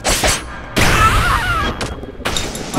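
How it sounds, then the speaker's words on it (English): Gunfire hits a character in the 2D fighting game Samurai Gunn: sharp loud bursts of impact and shot noise in quick succession, with a sweeping, gritty cry-like effect between them. "there's a bullet ripping through me."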